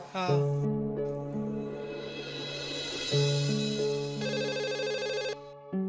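Telephone ringing in a Hindi comedy scene, a loud repeating electronic ringtone of steady melodic tones heard up close, over a background of music.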